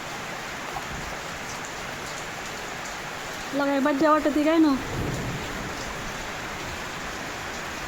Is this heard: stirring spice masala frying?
no